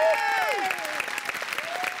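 Loud, rapid audience applause greets a film director at a stage event, continuous clapping with a bright sliding whistle or tone riding over it.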